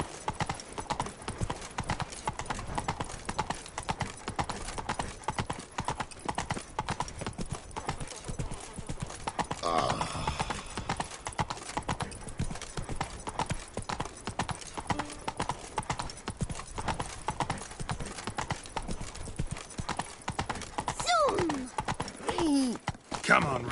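Roach the horse trots in The Witcher 3, hooves clip-clopping in a steady rhythm for the whole stretch, with a brief whinny and soft voice near the end.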